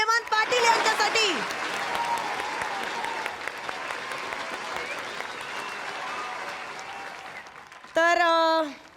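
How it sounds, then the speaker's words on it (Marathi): Audience at a Marathi comedy show award segment breaks into loud, sustained applause lasting several seconds, with a presenter's voice just before and again as it fades. "जोरदार टाळ्या"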